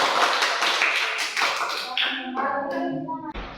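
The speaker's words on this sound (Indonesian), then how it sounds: "Oke, tepuk tangan" A classroom group claps after finishing a presentation, a burst of moderately loud, close applause that thins out into scattered claps while voices talk over it.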